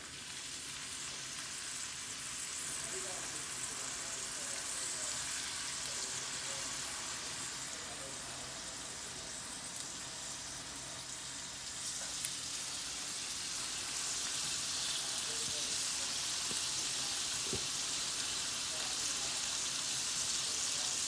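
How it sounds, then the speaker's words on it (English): Steady, close sizzling of redfish pan frying, a dense hiss that grows a bit louder partway through and continues without pause. "So we just pan frying. I'm gonna pan fry these a little bit."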